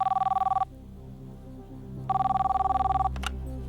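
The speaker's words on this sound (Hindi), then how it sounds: "दिगुमर्ती स्वर्णा को फोन लगाया जाए कंप्यूटर जी।" An outgoing telephone call rings through on a quiz show set, two electronic ring bursts with a pulsing trill separated by a pause, loud and clear over a low music bed.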